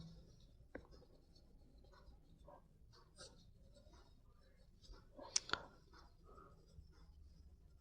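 Pen on paper scratching faintly while a maths solution is handwritten, with soft irregular strokes, light taps and quiet pauses, no talking.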